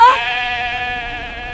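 An Awassi sheep lets out one loud, close, wavering bleat that holds for about a second and a half, heard on its own.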